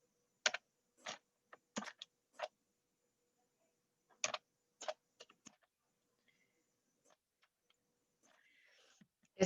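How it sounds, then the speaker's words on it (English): Someone types on a computer keyboard in a quiet room, tapping out short, uneven bursts of clicky keystrokes separated by pauses. The keys sound close and fairly faint. "let me type something in the chat for you guys."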